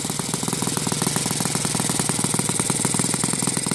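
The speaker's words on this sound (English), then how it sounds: "Currently it's running on the gasoline 20-1." A Saito FA 115 model airplane engine running on gasoline mixed 20:1 through its carburetor, a steady, loud, close buzzing with rapid even firing pulses throughout.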